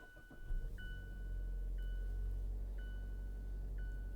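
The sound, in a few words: 2019 Mazda CX-5 GT-T engine push-button starting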